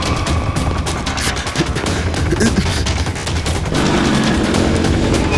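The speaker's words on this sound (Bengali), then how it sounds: "কে গুলি চালালো?" Gunfire in a TV crime drama, a dense burst of rapid shots and booms filling the whole stretch, loud and continuous with a crackling, echoing wash and no clear gaps between reports.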